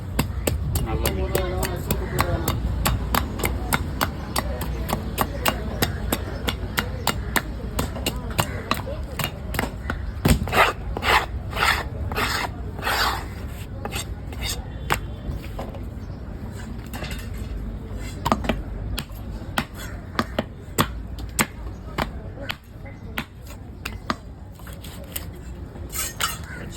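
Whole fresh fish being sliced into pieces with a knife at a fish cutting stall in Kasimedu, heard as sharp irregular chopping knocks on a board, with voices talking over a busy market background.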